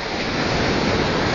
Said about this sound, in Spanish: Y parece que el mar se va moviendo.